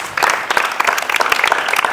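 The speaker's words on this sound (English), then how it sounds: "Let's clap for Jane" Applause for a student named Jane at a Ghanaian school assembly, a dense burst of many hands clapping that starts abruptly and carries on steadily and fairly loud to the end.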